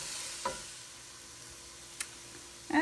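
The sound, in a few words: garlic sizzling as it cooks in a pan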